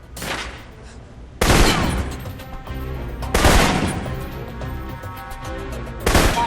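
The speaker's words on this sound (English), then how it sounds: "For long-range encounters, the assault rifle's the key." Assault rifle fire in the Alpha Protocol video game comes as three loud, close bursts of rapid shots, each followed by echoing decay.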